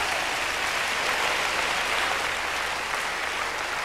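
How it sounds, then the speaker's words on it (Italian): Audience applause at a live Italian TV comedy show, a dense continuous wash of many hands clapping at an even, loud level throughout, with no talk over it. "fate un applauso"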